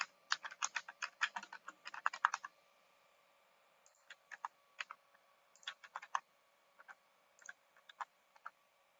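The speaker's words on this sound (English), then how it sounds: "I type" Typing on a computer keyboard, a quick burst of clustered keystrokes followed by sparser, irregular key clicks, close and clear in a quiet room.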